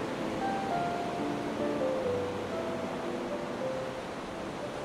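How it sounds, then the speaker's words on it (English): Continuous rushing surf from a stormy sea with rolling waves, a broad steady roar and some faint tonal streaks, no voices. "One of them was to calm the sea from the storm."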